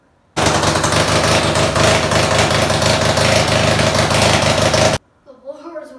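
A supercharged Top Alcohol Jr Dragster engine with blower, started for the first time after its build, idles high, loud and rough for about four and a half seconds, then cuts off abruptly before a voice speaks.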